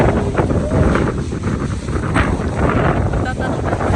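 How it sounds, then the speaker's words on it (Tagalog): Strong wind buffets the microphone at Ba Na Hills, a steady loud roar and rumble lasting throughout, with faint voices underneath. "Uy, ang hangin."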